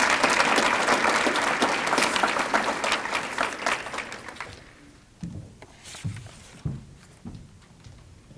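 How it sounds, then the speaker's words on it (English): Audience applause at a ceremony, loud sustained clapping for the first few seconds that fades out, followed by scattered thumps and shuffling. "we'll give him a round of applause"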